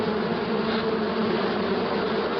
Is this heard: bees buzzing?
yes